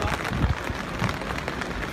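Rain falls at an outdoor paintball tournament, a continuous hiss of drops on surfaces with scattered low thumps and a busy background murmur.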